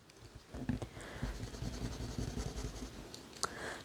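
A standard eraser rubs out marker on a board, giving close, soft scrubbing and squeaky friction strokes in quick irregular bursts with a few sharper taps.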